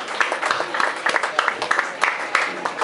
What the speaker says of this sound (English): if you want to give her a round of applause for that